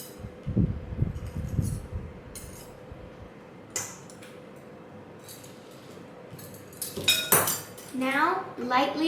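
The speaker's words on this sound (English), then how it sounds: "Now, lightly whisk them together." A whisk lightly beats wet cookie ingredients in a bowl, giving scattered metallic clinks and scrapes against the dish, with a voice speaking near the end.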